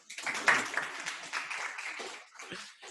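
A short burst of applause from a small group at a Rotaract Club installation ceremony in Kampala, hands clapping steadily for a few seconds before tapering off.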